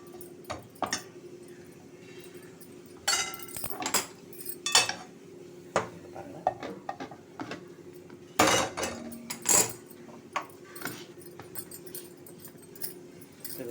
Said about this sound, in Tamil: ஸோ நான் வந்து இந்த ஹாட் பேக் வச்சுட்டுருக்கேன்